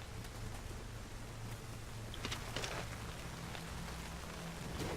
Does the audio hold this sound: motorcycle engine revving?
no